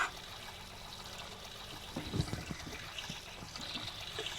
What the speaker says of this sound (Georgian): რა კარგია ცხელ წყალში ბანაობა